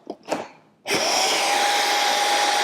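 A robot vacuum's dock starts self-emptying the dust cup, a sudden loud, steady whooshing roar with a faint whine that cuts in after a few soft knocks and holds to the end.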